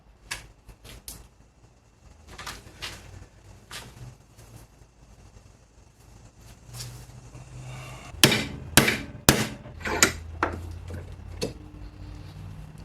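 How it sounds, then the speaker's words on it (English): Metal piece for a DIY Alice frame for a fiberglass proton pack being bent in a vise, sparse light taps at first, then a cluster of sharp, loud hammer-like metal strikes near the end. "going to put it in the vise and bend it"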